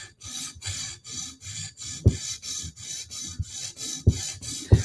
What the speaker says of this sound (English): Now we're just going to kill this burr.